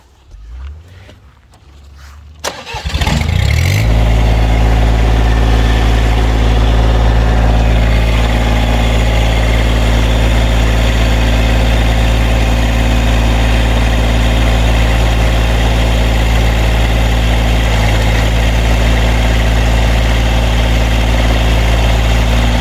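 A Massey Ferguson GC1725MB compact tractor's small diesel engine starts up and settles into a steady, loud idle with a low rumbling drone, running continuously with no talking.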